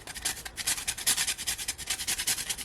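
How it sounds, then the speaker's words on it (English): Whole nutmeg grated for Jamaican hominy corn porridge, a quick run of close, raspy scraping strokes in a steady rhythm, with no talking. "I'm gonna grate some more of my nutmeg,"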